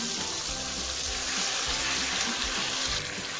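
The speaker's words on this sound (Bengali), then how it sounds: "এখন হচ্ছে মশলাটাকে খুব ভালোভাবে ভাজতে হবে যতক্ষণ পর্যন্ত না তেল ছাড়ে" Dried red chilli paste with melon seeds, salt and turmeric fries in oil for a chicken dish, giving a loud, dense, steady sizzle and bubbling hiss close by with no pauses.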